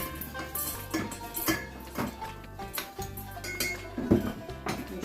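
Fava beans and lentils are spooned into a metal pot, making a run of light clinks and metallic taps at an uneven rhythm, close by and fairly quiet.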